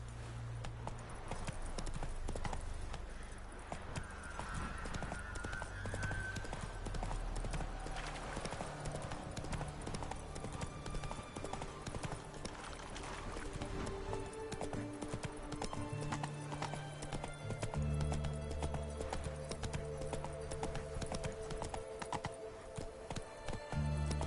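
Roach, Geralt's horse in The Witcher 3, galloping in a continuous fast clip-clop of hooves that carries on for the whole stretch, close and loud over a music and ambient game soundscape, with a brief whinny-like tone early on.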